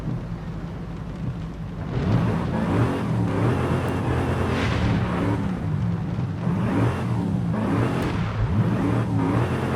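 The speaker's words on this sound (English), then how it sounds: "Let's rev it." A muscle car engine in Forza Horizon 5 revs repeatedly, with loud rising and falling surges in several waves over a steady rumble, with no talking.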